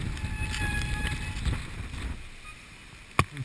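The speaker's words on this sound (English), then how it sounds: "the wind is really strong" Strong typhoon wind at Nagoya Station roars and buffets the microphone in a dense low rumble that eases toward the end, with a sharp click just before it stops.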